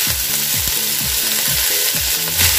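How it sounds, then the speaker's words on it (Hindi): Ginger garlic paste fries in a pan for chicken hakka noodles, a loud, close, continuous sizzle over which a low rhythmic tone rises and falls, with no voice. "जिंजर गार्लिक पेस्ट ऐड करने के बाद फिर हम चला लेंगे"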